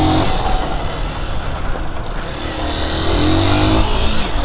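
Motorcycles riding past on a road, a steady loud engine roar with rising revs and passing whooshes throughout, close by and continuous with no talk.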